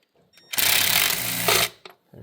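A power tool whirs steadily for about a second, loud and close, while removing the 8mm valve cover bolts on a 2014 Jeep Grand Cherokee engine.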